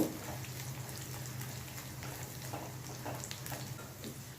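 Ginger, garlic, green chili and black cumin fry in a pan with soft, steady sizzling and scattered faint crackles and pops over a low background hum.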